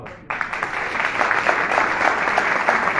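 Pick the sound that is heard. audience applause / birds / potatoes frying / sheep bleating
audience applause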